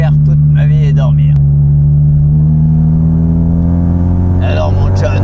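A Ford Escort MK3 engine hums in a steady, loud drone with a slowly rising pitch, while someone speaks excitedly over it at the start and end.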